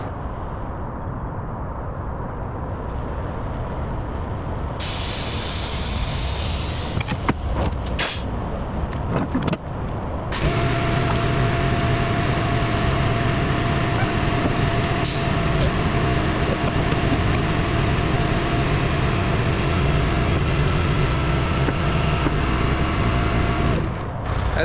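Diesel truck engine running steadily, with an air-brake hiss and door-like clunks near the start before a louder, sustained engine drone takes over for the rest of the time.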